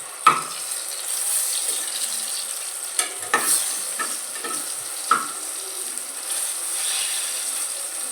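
Eggplant and chillies fry in a pan with a quiet, continuous sizzle and scattered spatula scrapes and taps, close up and free of speech.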